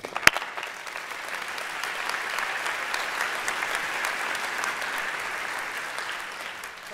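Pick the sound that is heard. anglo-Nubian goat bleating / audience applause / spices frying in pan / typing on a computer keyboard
audience applause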